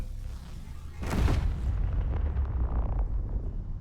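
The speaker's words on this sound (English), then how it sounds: "you would think a rail cannon will do some damage" A rail cannon shot strikes an asteroid in the space game Space Engineers, a single sudden blast followed by a rumbling, crackling roar that slowly fades.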